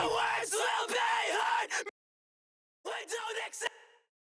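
Harsh screamed backing vocals in a heavy rock song mix burst out in two loud, raw passages separated by a couple of seconds of silence, each ending abruptly.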